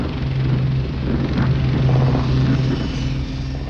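A Westland 30 military combat transport helicopter drones steadily and loudly throughout, with a low rotor hum and a constant engine whine, no voices present.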